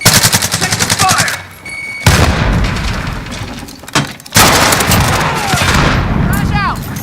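Video game gunfire rattling in rapid automatic bursts and sharp loud shots, broken by a couple of short pauses, with players' voices shouting over it.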